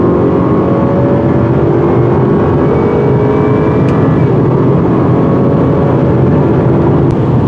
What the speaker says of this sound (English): Wind this engine in 10 speed out and put it in the sport mode.